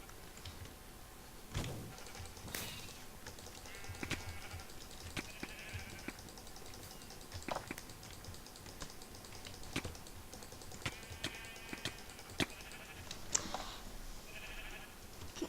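Minecraft sheep bleating several times in short, nasal cries, mixed with frequent clicking keyboard taps and faint game noises, no talking.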